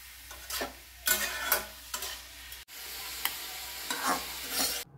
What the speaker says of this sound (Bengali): এবার নুন দিয়ে এটাকে ভালো করে ভাজতে হবে